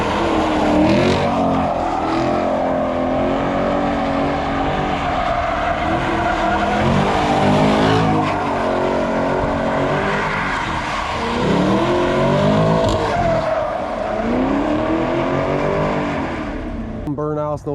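A 2020 Chevrolet Camaro LT1 spins donuts, its V8 roaring loud and steady with sweeping pitch swings as the engine revs rise and fall, tires squealing throughout, close and continuous for the whole stretch.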